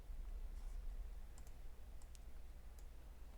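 Light typing on a computer keyboard while coding, a few sparse quiet key clicks over a low background hum.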